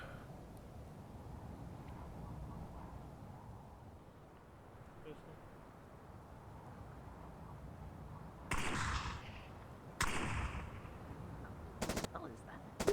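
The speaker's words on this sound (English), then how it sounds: "I'll be shooting above the vehicle, so that way to get you an understanding that hey, like to give you a more live scenario. In real play, it's blanks" Blank rounds fired above a vehicle during an infantry training exercise: a few sharp, loud shots ring out late in the stretch after a quiet, murmuring ambience, with voices faintly present underneath.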